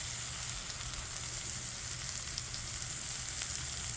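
Shaved ribeye fries in a pan with a steady, close hiss and crackle that keeps going without a break and has no voices over it.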